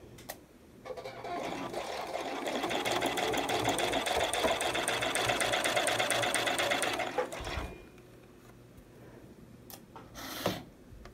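A sewing machine runs steadily for several seconds stitching a quarter-inch seam on an enclosed gusset, a close, even mechanical whir that stops abruptly, followed by a few quieter handling sounds and a brief clack.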